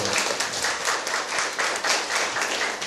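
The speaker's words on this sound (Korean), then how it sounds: "박수 한번 주십시오" An audience claps at a Korean counseling psychology lecture, a steady, dense round of applause lasting the full three seconds, moderately loud and even, with no speech over it.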